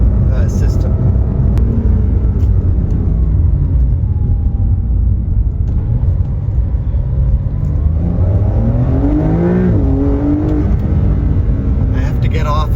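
A Porsche 911 4S with an upgraded aftermarket exhaust accelerates hard in third gear, giving a loud, sustained engine roar that climbs in pitch as it revs, heard from inside the car.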